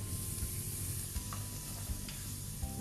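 Tomatoes with spices such as fenugreek seeds and black pepper cook in a pan for chicken curry, giving a steady low sizzle with a few soft stirring scrapes, close and moderately quiet, no talking.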